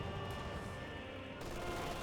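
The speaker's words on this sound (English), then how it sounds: "And here comes the mortars from those mortar half tracks." Mortar half-tracks firing in Company of Heroes 2, a steady wash of battle noise with dense overlapping gunfire and distant booming shells, continuous and fairly loud across the whole stretch.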